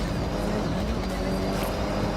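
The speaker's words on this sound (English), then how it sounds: "You can hear the engine has more power." A powerful rally-style car engine in Forza Horizon 6 drones steadily at high revs with a rough, throaty tone and light rattles throughout, close and continuous, with a faint voice underneath.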